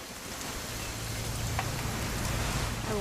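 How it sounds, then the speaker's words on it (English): Steady rain hisses across a quiet scene in the video game What Remains of Edith Finch, a broadband wash with a low hum running underneath and a couple of faint incidental ticks. "It's gonna rain the whole weekend"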